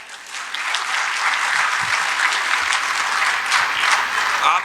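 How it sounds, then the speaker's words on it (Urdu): An audience at a Pakistani school's World Disability Day event applauds a student with bright, dense clapping that stays even and close for several seconds. "اس کے لیے تالیاں بجا دیں۔"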